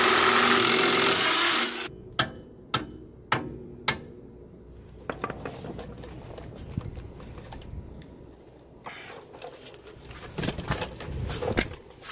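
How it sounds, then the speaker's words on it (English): An impact wrench works a 17 mm nut during a driver-side half shaft replacement on an Integra. A loud, dense rattling burst lasts about two seconds, followed by a series of sharp metallic clicks and clanks from tools nearby. "That's a 17 as well. Impact, 17 mil wrench."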